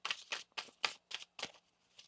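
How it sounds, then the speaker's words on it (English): Tarot cards shuffled by hand in a quick run of six or seven crisp riffling bursts with short gaps between, fairly close and soft, with no voices. "One more shuffle here."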